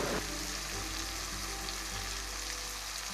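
Chilli powder and coriander powder sauté in hot oil in a pan for traditional South Indian sambar, giving a steady, close, continuous sizzle and frying hiss with faint stirring throughout and no talk.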